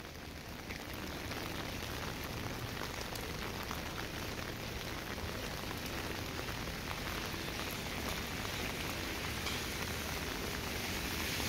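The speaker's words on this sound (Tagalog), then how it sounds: "It's raining, man." Steady rain falls on a street in A Coruña, Spain, a dense continuous hiss of drops on pavement that stays even and fills the whole stretch without pause.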